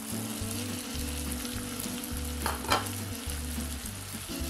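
Brinjal and boiled broad beans sizzle in hot oil as a spoon stirs them, a soft steady crackle with scraping strokes and a low repeating hum underneath, quiet and close, with no voices.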